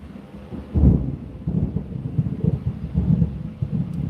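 Thunder rumbles during a storm, deep and rolling in several low surges, fairly loud and steady with no voices over it.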